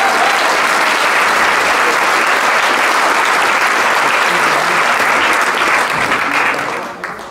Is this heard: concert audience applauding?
yes